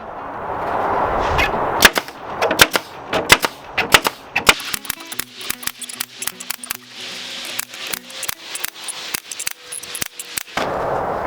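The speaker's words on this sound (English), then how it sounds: "time to staple on the backer board, and this will give it some strength and hold the mirror in" A staple gun fires repeatedly as it fastens backer board onto a mirror frame, making sharp, loud snaps at an irregular pace, some close together and some spaced apart.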